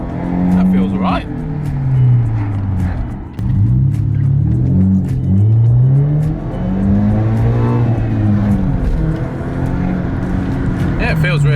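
A naturally aspirated BMW 320i with a K&N intake accelerates in short pulls, its engine drone rising and falling through gear changes from inside the car while people talk over it.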